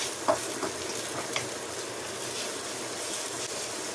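Onions frying in a pan until light brown give a steady, even sizzle throughout, with a few faint stirring scrapes near the start.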